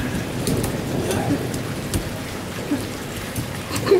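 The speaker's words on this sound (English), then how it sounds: "Thunder!" Steady rainfall outdoors during a storm, with a dense hiss of drops on the ground and low rumbling beneath, plus occasional splashes and brief child-like vocal sounds faintly over the wash.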